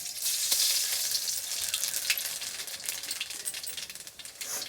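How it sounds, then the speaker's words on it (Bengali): Nigella seeds crackle in hot mustard oil, a bright, close sizzle with rapid spitting pops scattered throughout, fairly soft and unbroken by speech. "সরষের তেল দিলাম। কালো জিরে ফোড়ন দিয়ে দিলাম।"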